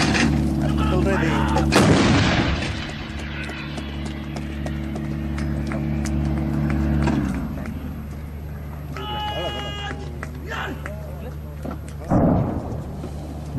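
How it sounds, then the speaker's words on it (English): Bofors artillery gun firing a burst, heavy booming shots with a sharp onset and long rumbling decay, loud and close, with a further thud later on and someone speaking over it. "To see the effect of burst fire, we have diamond."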